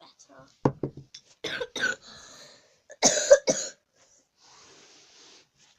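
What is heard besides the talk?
coughing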